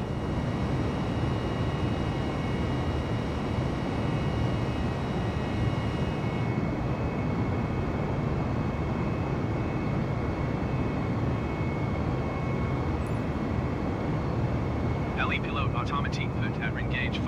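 Airbus A320 taking off from Nice Côte d'Azur airport, a steady loud roar of jet engines and airflow heard from inside, with faint brief clicks near the end.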